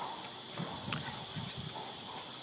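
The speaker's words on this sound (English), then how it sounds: "let's turn a circle and you have a look at his trot" A chestnut horse trots during a riding lesson, its soft hoof beats faint and rhythmic under steady outdoor background noise.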